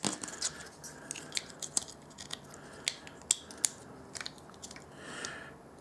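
Plastic legs of a Transformers Generations Combiner Wars Air Raid toy snap together in a run of quiet, sharp, irregular clicks and ticks, close up and without any talk.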